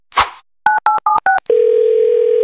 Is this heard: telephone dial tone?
yes